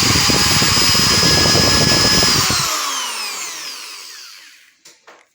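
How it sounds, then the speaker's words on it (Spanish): A DeWalt drill running at full speed during a test after maintenance, a loud steady whine that cuts off and spins down over a couple of seconds, followed by a few faint clicks. "Vamos a probar que esté funcionando."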